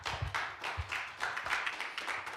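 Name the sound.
audience applause at a parent town hall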